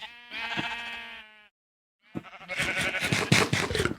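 Sheep bleating in the Minecraft video game, penned in a round building with sheep dyed in every color. Two harmonic bleats come close and clear, the second rougher and noisier after a short silence.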